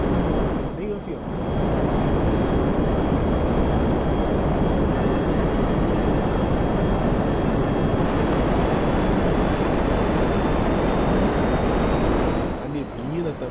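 Airplane flying in the video game GTA 5, heard as a steady, broad roar that holds loud and unbroken for most of the stretch, with a faint tone running through it and quieter breaks at the very start and end.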